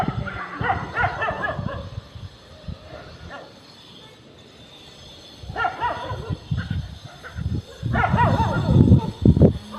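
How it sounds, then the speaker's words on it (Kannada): Several dogs bark in bursts outdoors, with yips and whines between, the barking growing louder and more frantic toward the end. "ನಮ್ಮ ಬೀದಿಲಿ ಅಂತೂ ನಾಯಿ ನೋಡ್ರಿ, ಲೆಕ್ಕನೇ ಇಲ್ಲ"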